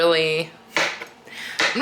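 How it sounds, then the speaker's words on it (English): A knife chops mushrooms on a cutting board while quail is prepared French-style in a home kitchen. A voice speaks briefly first, then three sharp, close chopping knocks follow at uneven intervals. "Now I'm gonna chop up the mushrooms"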